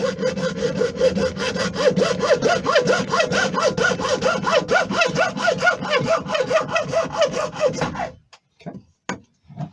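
A hand saw cuts through wood in a workshop with quick, rhythmic back-and-forth strokes, loud and close, for about eight seconds, then stops with a few final scrapes.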